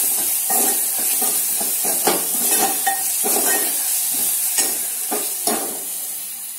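Ginger garlic paste masala sautéing in a pan for a toor bean amti, a steady close sizzle and hiss broken by repeated scraping strokes of a spoon stirring, with no talking.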